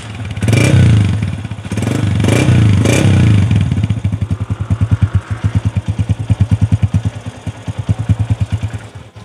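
A 2003 Honda 125 motorcycle engine runs up close, loud revving at first, then settling into a steady, thumping idle with a clear rhythmic pulse and slight mechanical clatter.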